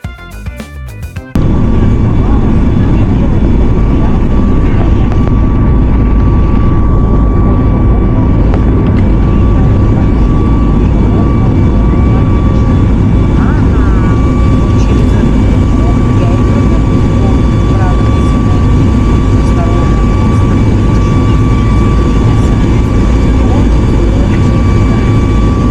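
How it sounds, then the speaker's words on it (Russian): A Ryanair airliner accelerating down the runway for takeoff from Vienna to Paphos, a loud, steady jet engine roar heard from inside the cabin with a high whine above it, beginning abruptly after a second of quiet. "Уже с задержкой где-то на 40-45 минут мы вырулили на взлетно-посадочную полосу и начали взлет."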